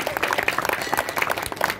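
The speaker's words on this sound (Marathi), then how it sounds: "जोरात टाळ्या वाजव या ताईसाठी." Brief applause for a woman mridang player at a women's harinam gathering at Kalaram temple in Nashik, a lively cluster of claps from a seated crowd, close and uneven, with voices mixed in.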